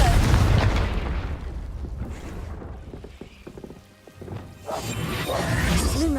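A Confringo fire-blast spell in Hogwarts Legacy bursts with a loud, close boom at the start, then a rumbling tail fading before more crashing impacts build again.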